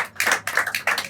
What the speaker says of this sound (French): On applaudit Axel